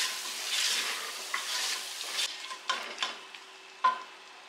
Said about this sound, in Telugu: చేసిన తర్వాత బాగా ఈ గ్రేవీలోకి ఈ చెన్నా అంతా బాగా మిక్స్ చేసుకోవాలి